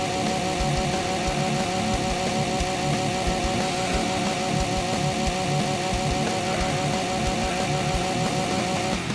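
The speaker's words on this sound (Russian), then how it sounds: "Нормально, бензопила, слушай." A video-game chainsaw engine drones loudly and continuously, a steady buzzing whine with a rough rattling undertone that never lets up, in a zombie game.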